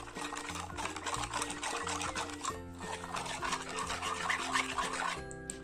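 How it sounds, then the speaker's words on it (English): Slime activator solution is stirred in a container, a continuous scraping, rubbing swirl with irregular knocks and rattles, close up and moderately loud with no talking. "So we are going to mix it until it gets, you know, dissolved completely."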